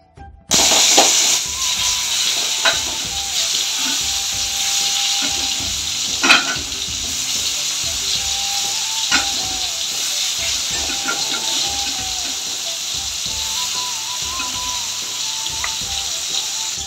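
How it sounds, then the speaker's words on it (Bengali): Pointed gourd and spiny gourd frying in a pan give a steady, loud, close sizzle and hiss throughout, broken by occasional stirring clicks and scrapes. "2টা পটল কাঁকরোল আসলে ভাই করছি ভাজা"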